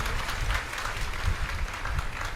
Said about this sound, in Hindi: ब्रजपाल जी के लिए सुंदर तालियां बजा के हम इनका स्वागत करेंगे